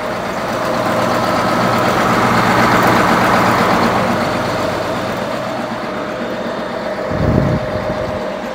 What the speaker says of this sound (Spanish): Ahora el motor está encendido para que ustedes puedan escucharlo.